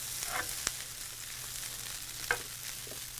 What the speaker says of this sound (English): we are going to go ahead and stir that up